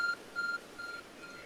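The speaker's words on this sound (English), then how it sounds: "There's a glowing, beeping object over there." An object that looks like a phone beeps in Pokemon Legends Arceus. Its electronic beeps are thin and high, with two clear tones and a fainter one after them, heard softly over a hushed background.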